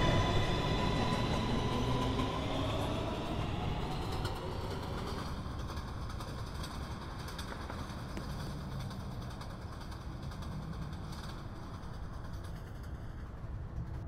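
A 1 train on a simulated New York City subway rumbles steadily along the track, a dense rolling roar with faint high metallic tones, gradually easing in loudness; no voices.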